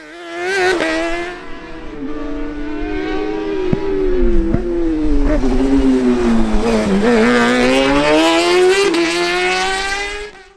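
Rally cars at a Northern Ireland winter series stage at Shackleton, the engine loud and close, revving and shifting gears with a rising, falling pitch across the run before cutting off at the end.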